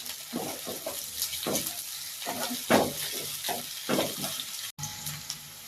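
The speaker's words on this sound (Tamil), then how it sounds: "நான் பூண்டு சேர்த்துக்கிறேன். வெங்காயம் சேர்த்துக்கிறேன். இதெல்லாம் நல்லா வதக்கி விட்டுறலாம்." Garlic and onion sautéing in a pan for veg Schezwan noodles, a steady sizzle broken by repeated scraping stirs of a spatula, close and moderately loud with no talking.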